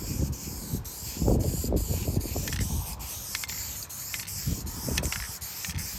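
Light spray coat going onto a pinball back glass, soft hissing bursts of aerosol in short passes, close and moderately loud with brief gaps between.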